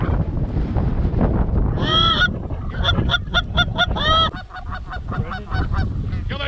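Wild geese honk repeatedly during a goose hunt, a flock's loud nasal calls arriving in quick bursts and overlapping cries, with wind and low rumble underneath.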